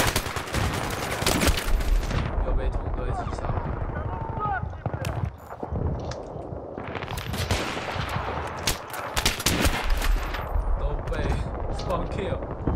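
Battlefield 3 gunfire crackles in bursts through a busy game mix, with loud automatic volleys and explosive impacts near and far, while a player talks over much of it.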